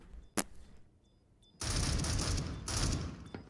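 Gunfire in a Rainbow Six esports match: a single sharp shot, then a long loud automatic burst, a brief dip, and more rapid fire, all close and with no talking.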